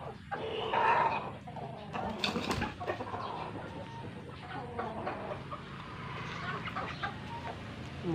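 Mestizo chickens and roosters, some gold-colored, cluck and call in a yard, with a louder call near the start and scattered fowl sounds throughout, mixed with ambient noise and occasional talking.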